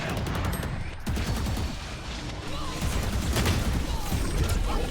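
Dense, continuous rapid gunfire from a competitive shooter game fills the stretch, loud and close with bursts overlapping one another, and a voice sits faintly underneath.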